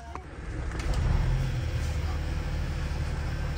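An old bus engine has just started and settles into a steady, loud, low rumbling idle, with a faint buzzing above it and no other sounds.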